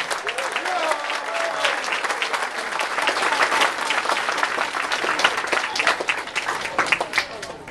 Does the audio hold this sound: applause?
yes